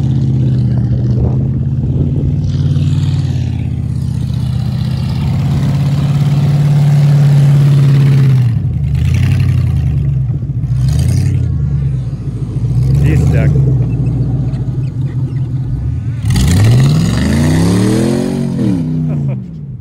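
A truck with a loose, squirrely back end drives along, its engine droning loudly and then revving in rising and falling surges toward the end.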